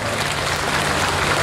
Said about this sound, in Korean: 오늘 도와주신 명인들께도 박수 한 번만 해주시기 바랍니다